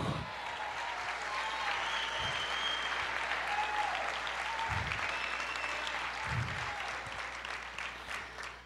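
Church congregation applauding during a Portuguese-language sermon, a dense, sustained wash of clapping from a large crowd that holds steady throughout, with low thumps underneath.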